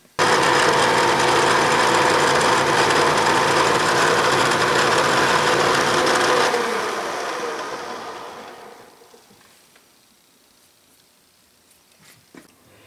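A Bridgeport milling machine takes a light final finishing pass on a chamfer with Aluma Cut applied, a loud steady whirring cut that runs about six seconds, then winds down and fades to a quiet shop.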